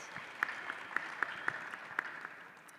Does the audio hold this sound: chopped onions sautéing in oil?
no